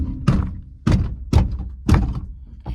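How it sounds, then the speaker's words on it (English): The door of a 1992-97 Ford F-series pickup is shut several times, giving a run of five heavy, close thunks with a short ring after each one. "let's give the door a good close"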